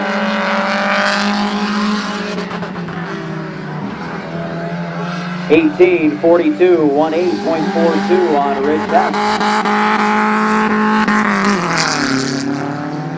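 Rich Hess's number 19 race car roars around Midvale Speedway on a hot lap, engine loud and sustained with rising and falling revs as it passes, while a track announcer talks over it.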